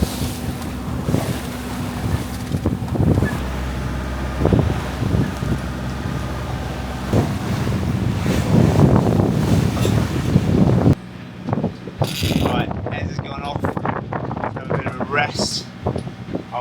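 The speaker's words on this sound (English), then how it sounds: "the wind's built quite a bit and it's wind against tide now, so it's pretty lively out here." Strong wind buffets a sailing boat at sea in lively wind-against-tide conditions, a heavy roaring gust noise with rushing water and spray, continuous and close, shifting to lighter, choppier wind noise partway through.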